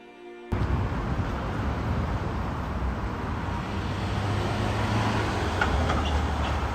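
A Melbourne tram rolls into a stop, a steady broad rumble of wheels and motor rising suddenly and holding, with faint squeals near the end and no talk.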